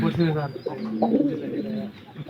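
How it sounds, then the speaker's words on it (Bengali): An old pigeon coos nearby in low, throaty, hoarse phrases, repeating its call several times. "বয়স্ক কবুতর তো একটু ডাক অন্যরকম, একটু ফ্যাস ফেসা"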